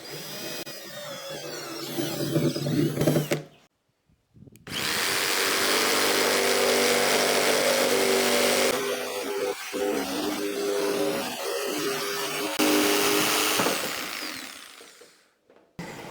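A power tool cuts through a 4-inch PVC elbow in two loud, close bursts of buzzing and grinding separated by a short pause, with the second run longer and steadier.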